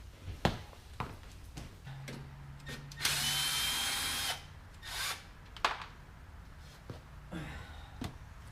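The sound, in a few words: power drill removing quarter-inch screws from mower transaxle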